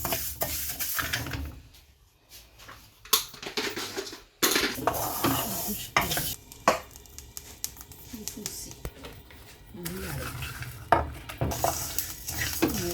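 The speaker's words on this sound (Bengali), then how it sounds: "এখন আমি বাজবো চাউল" Clattering pan and utensil scrapes mix with soft sizzling and stirring as rice fries in a pan, while a person talks intermittently over the cooking noise nearby.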